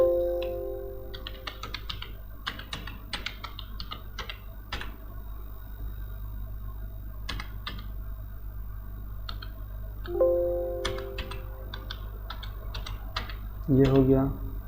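Typing data into a Word document on a computer keyboard, heard as scattered bursts of soft key clicks with pauses, over a steady low hum, with brief tones near the start and end.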